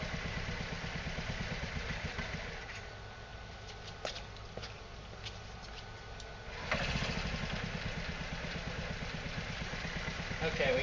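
A hydrogen-fuelled scooter engine, its gas fed in through the top of the carburetor, sputters and catches into a steady, close rhythmic chugging that grows louder and rougher near the end.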